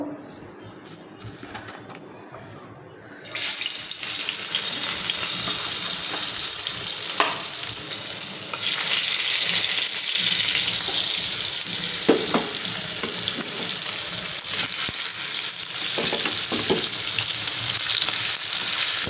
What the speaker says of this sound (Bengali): আগে থেকে যে মাছটা মশলা দিয়ে মেখে রেখেছিলাম সেটা এখন আমি ভেজে নেবো